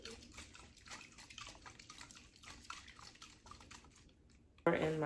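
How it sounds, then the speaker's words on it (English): A cocktail shaker shaken while mixing a Nowadays lemon mocktail, giving a quiet, rapid rattling of irregular clicks throughout, ending in a sudden louder burst. "Shake it up."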